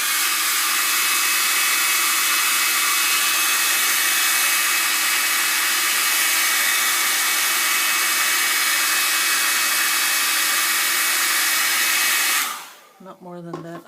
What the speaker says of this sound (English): I'm going to use a hairdryer